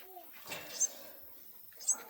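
A baby sparrow that cannot fly, placed in a bird feeder, gives two short, sharp high chirps about a second apart. They are faint and sit over quiet background noise.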